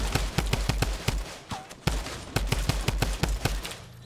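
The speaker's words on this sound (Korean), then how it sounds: "총도 안 먹었는데 총소리가 벌써" Rapid bursts of gunfire crack in uneven volleys, some shots clustered quickly and others spaced apart, over a steady background hiss.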